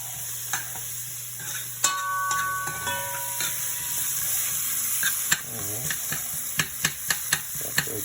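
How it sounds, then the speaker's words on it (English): Chopped vegetables sautéing in a pot before a garlic-seasoned pot roast, giving a steady close sizzle with a spoon stirring and knocking against the pot now and then. "get those nice and sauteed"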